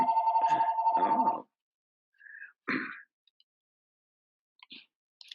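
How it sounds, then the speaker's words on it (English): A mobile phone rings during a Sunday Zen talk at Hokyoji, a tonal ringtone trill sounding clearly for about a second and a half at the start, followed by quiet with a short voiced exclamation and a few faint scattered noises. "sorry that my phone's ringing"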